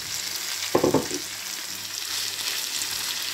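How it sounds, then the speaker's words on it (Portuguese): Onions frying in a pan for a Christmas dinner, a steady close broadband sizzle throughout with a brief louder clatter of stirring near the start. "Agora vamos meter a nossa cebolinha."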